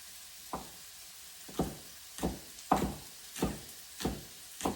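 Carrot and shiitake mushroom frying in a pan, heard as a faint steady sizzle broken by about seven regular clattering stirs or knocks, with no talking.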